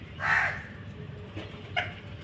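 Outdoors in the morning, a visiting sparrow gives two short, sharp chirps, the first louder and the second about a second and a half later, over a low background hum.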